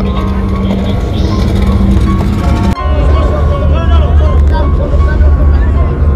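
A small passenger boat powered by a single 40 HP Johnson outboard engine runs with a steady, loud motor drone and wind and water noise, with voices talking over it.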